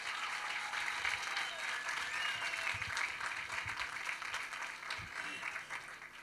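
An audience applauds student award finalists from several secondary schools, a steady wash of many hands clapping at moderate volume with a voice speaking over it.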